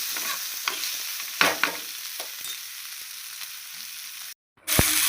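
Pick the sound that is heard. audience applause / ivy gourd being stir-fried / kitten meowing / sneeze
ivy gourd being stir-fried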